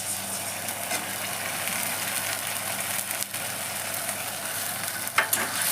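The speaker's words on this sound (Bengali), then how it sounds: "এবার আমি দেব আদা আর রসুনের পেস্টটা" Ginger-garlic paste frying with onions in hot oil for dal makhani, a steady dense sizzle with faint stirring scrapes near the end, no voices.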